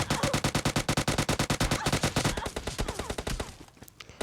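Automatic gunfire in the mobile shooter PUBG Mobile Lite rattles off as a rapid, even burst of loud shots, thinning into scattered reports at the end.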